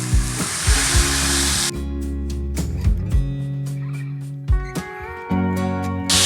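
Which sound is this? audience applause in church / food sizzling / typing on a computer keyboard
food sizzling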